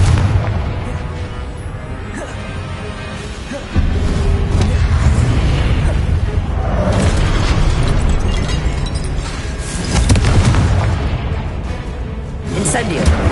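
Confringo spell blasts in the Hogwarts Legacy video game: loud, rumbling booms and bursts that swell repeatedly over a dense roar of game noise, with voices talking throughout.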